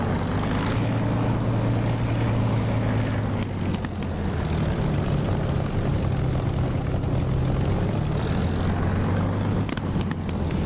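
A Spitfire's propeller engine in the DCS flight simulator, a loud, continuous droning roar with a steady low tone that dips briefly midway and then carries on unbroken.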